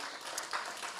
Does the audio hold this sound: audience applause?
yes